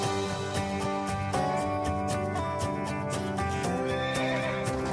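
A horse neighs and whinnies amid loud, steady dramatic trailer music, with faint hoof clip-clop in the mix and no talking.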